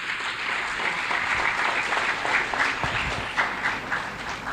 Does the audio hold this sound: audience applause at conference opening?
yes